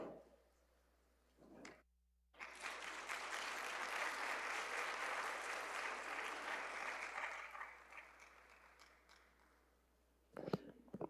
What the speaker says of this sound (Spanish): me gané un aplauso extra delante del ministro